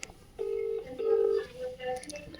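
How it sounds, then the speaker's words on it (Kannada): A phone rings with two short, steady tonal pulses at close range, followed by a faint beep, in a quiet room. "ರಿಂಗ್ ಆಯ್ತು"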